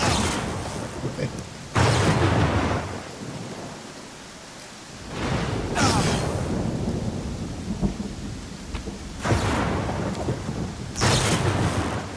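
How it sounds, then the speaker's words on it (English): Heavy rain falls steadily in a Pathfinder: Kingmaker thunderstorm, broken by four loud, rumbling thunder cracks spaced several seconds apart. "Hell of a storm, eh?"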